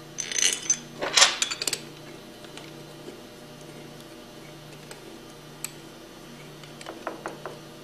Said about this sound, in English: And then gradually turn the bolts in by hand to run the discharge manifold in evenly.